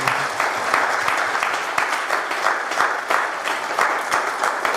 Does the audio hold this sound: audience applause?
yes